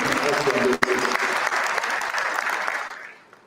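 An audience at an induction ceremony for newly qualified medical and dental practitioners applauds to welcome a professor: a dense, steady wash of clapping from a large crowd, briefly overlapped by a voice at the start, fading away at the end.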